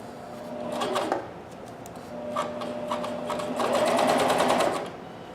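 A Janome 634D CoverPro1000 coverstitch machine stitches knit fabric in two close, steady runs with a short pause between, the motor whirring loudly and alone.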